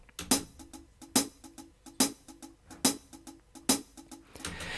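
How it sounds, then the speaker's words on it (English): A programmed hi-hat drum part plays alone. Sharp metallic ticks repeat in an even rhythm with stronger accented hits on each beat, and the sound is close and moderately loud. "I'll play the hi-hat part."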